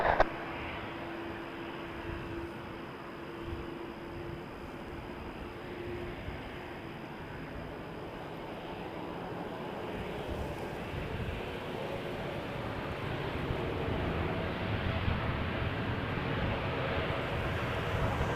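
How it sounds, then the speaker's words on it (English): A Boeing 787 Dreamliner makes a heavy nighttime departure from Toronto Pearson, its distant jet roar forming a low, steady rumble that slowly swells over the length of the recording. "Beautiful heavy departure from Toronto Pearson."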